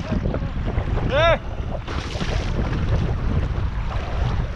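Wind blows over the River Spey during a kayak trip, buffeting the microphone with a low, steady rumble. A short whistling call cuts through near the start.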